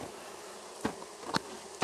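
Honey bees from a package being installed into a hive hum in a soft, steady drone, broken by two brief louder bursts as individual bees pass close by.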